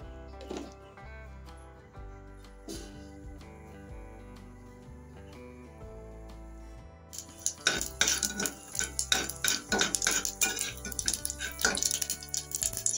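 Cumin seeds are stirred in melted butter in a pressure cooker over a low flame, with soft music at first and then quick, close metallic scrapes and clinks of a spoon against the pot over light sizzling.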